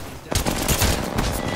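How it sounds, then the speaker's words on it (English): Automatic gunfire rattles in a competitive video game match, rapid bursts of shots firing almost without pause and loud throughout. "Shoot her, shoot her."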